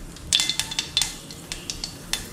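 Fenugreek seeds fry in hot sesame oil, crackling with quick irregular pops and clicks over a soft continuous sizzle, close and fairly loud.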